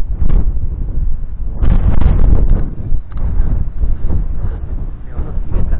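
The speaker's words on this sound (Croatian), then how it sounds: "Evo, nosi vjetar, ljudi razbija." Strong stormy wind batters a microphone on Devesilje mountain above the Bay of Kotor, a loud, rumbling roar with heavy buffeting gusts that surge and drop continuously, no voices heard.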